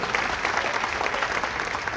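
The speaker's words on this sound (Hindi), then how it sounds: "जरा जोरदार तालियां एक बार बजाइए" Dense, loud applause from a large audience at a Hindi poetry gathering in Mumbai, continuous clapping filling the hall without a break.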